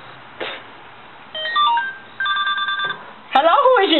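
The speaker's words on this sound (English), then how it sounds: "My phone's ringing." A phone ringing, heard as a burst of electronic beeping tones and short melodic ringtone notes with a brief clatter, loud and close, with voices audible around it.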